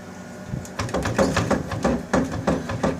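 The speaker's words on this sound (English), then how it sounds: "Sorry about the noise. This microwave's fucked." Faulty microwave oven running with a lightbulb inside, giving a close, rough rhythmic buzzing and rattling in regular pulses, loud and continuous.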